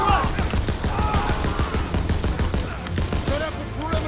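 Dense battlefield gunfire in Call of Duty WWII, set during Operation Cobra, with rapid overlapping shots that keep up steadily for the whole stretch and voices shouting over the din.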